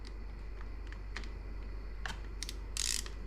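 Torque wrench tightening a bolt to 7 foot-pounds on a 2016 Yamaha YZ250F during an oil change, a few quiet ratcheting clicks and a brief louder click burst near the end, close and alone.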